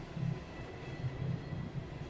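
A train rolls along rails, heard as a low, steady rumble with soft rhythmic clacks pulsing through it, used as ambient background with no talk.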